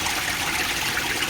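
Water from the bottom of a koi pond rushes steadily through an aquaponics filtration system, a loud, continuous broadband gushing with no voices.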